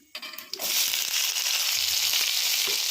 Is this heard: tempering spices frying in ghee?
yes